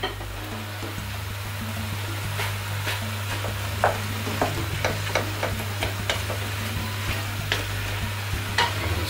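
Mushrooms frying in a pan for homemade lasagna, a steady close sizzle over a low hum with repeated clicks and scrapes of a utensil stirring them, no talking.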